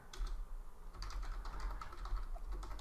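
Command typed on a computer keyboard, a quick close run of light clicky keystrokes in bursts over a low electrical hum, with no voices.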